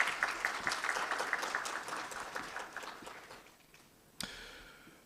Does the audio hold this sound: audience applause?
yes